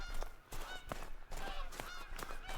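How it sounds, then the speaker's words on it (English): Canada geese honking in the hunting game theHunter: Call of the Wild, several overlapping nasal honks in quick irregular succession, moderately close against a low ambient outdoor bed. "goodbye Canada geese"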